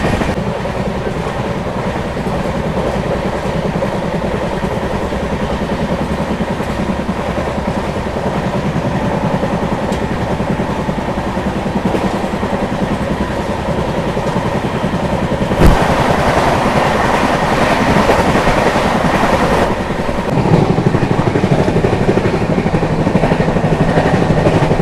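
A Konark Express train running at speed on the rails, heard from on board as a loud, steady roar with continuous rail rumble and clatter that swells and shifts as it overtakes another express.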